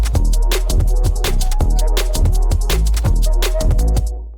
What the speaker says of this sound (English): I just have the 90s club bass preset